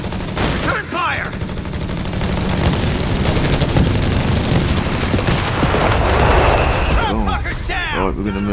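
Dense gunfire and explosions from a Company of Heroes 3 battle as commandos assault Salerno, with sustained loud volleys and bursts throughout, shouted voices breaking in over the shooting.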